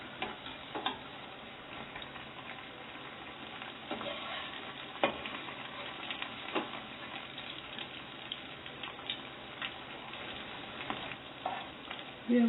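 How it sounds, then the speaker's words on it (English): Sabudana vada sago fritters frying in hot oil, a steady low sizzle with scattered small pops and crackles throughout, heard alone at moderate volume. "we have to fry them till it gets little crispy and golden brown."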